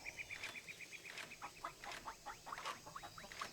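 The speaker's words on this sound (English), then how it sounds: "I can hear the chickens slightly in front." Chickens cluck in the video game Misty World, a rapid series of short chirpy calls, fairly faint, with a high repeating tone pulsing at the start; no voices.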